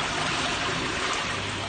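Water rushes out through the opened valve of a Nexus 320 pond filter, a loud, steady, continuous gushing drain with no talk.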